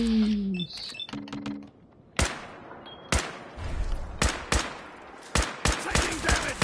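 Rapid bursts and single sharp gunshots from Fallout 4 combat, a cluster of loud cracks in the first seconds followed by spaced, punchy shots with short echoing tails.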